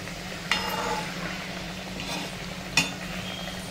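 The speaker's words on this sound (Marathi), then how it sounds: "छान अशी पॅटीस आपल्याला त्याच्यावर लालसर रंगावर तळून घ्यायचे आहेत" Oil sizzles and crackles steadily as pea patties deep-fry, with two sharp clinks from a utensil against the pan.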